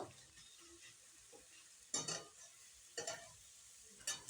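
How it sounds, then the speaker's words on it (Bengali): Onion, garlic, ginger and green chili are stir-fried together in a pan for a mixed vegetable dish, with three distinct loud scraping stirs spaced about a second apart over a faint sizzle. "এরপর সব কিছুকে একসঙ্গে নাড়িয়ে চাড়িয়ে একটু ভাজা ভাজা করে নেব"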